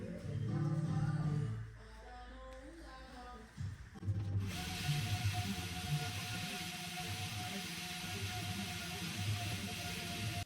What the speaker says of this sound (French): le souffleur, il me permet en fait d'enlever tous les petits poils, les petites aspérités au niveau du cyclo